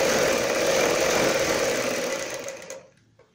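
A sewing machine runs steadily while stitching a folded fabric piece for a kurti sleeve, a continuous close whirring hum that slows and stops near the end.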